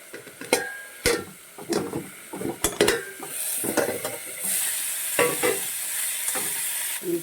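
Cauliflower fries in a pan with salt and turmeric while a utensil stirs it, giving repeated scrapes and clanks over a soft sizzle that grows steadier and brighter toward the end.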